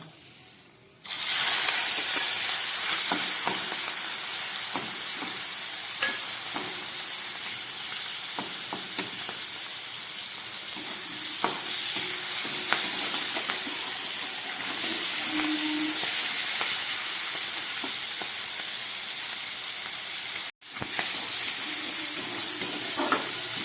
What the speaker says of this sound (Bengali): চিংড়ি মাছটাকে ভেজে নেব